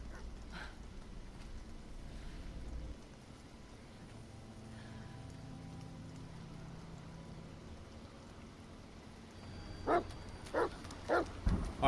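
A dog in the video game The Medium barks several times toward the end, fairly close, over a long stretch of low ambient rumble and faint atmospheric noise.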